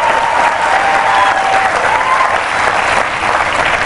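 Audience at a Facing Race 2010 talk applauding the teachers: steady, loud, sustained clapping from a large crowd throughout, with no pauses.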